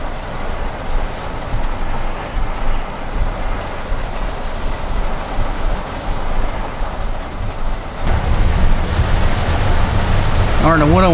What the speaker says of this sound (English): we're in a little downpour now